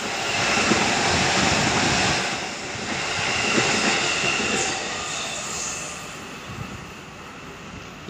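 A train passes through Hodogaya station in Japan with a loud, sustained rumble and rushing roar that swells, eases and swells again as the carriages go by close at hand, with no speech.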